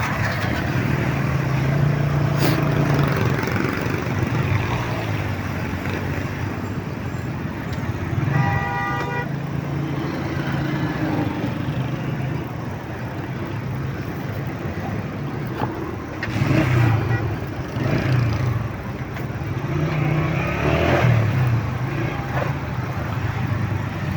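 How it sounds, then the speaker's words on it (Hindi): Heavy road traffic in Gulshan-e-Iqbal, Karachi: a continuous engine rumble close by, with car horns tooting now and then, including one held honk mid-way, and faint voices in the mix. "बड़ा ट्रैफिक है भाई"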